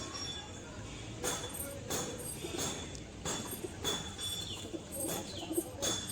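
Domestic pigeons, including young birds, cooing in a loft, soft coos and calls over a steady noisy background with several sharp flutter-like bursts spread through the stretch.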